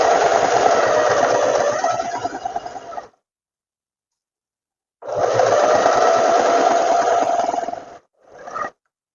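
A sewing machine stitches the front panels and lining of a tailored square-neck vest in loud, close bursts: a three-second run, a pause, another run, then a brief final spurt.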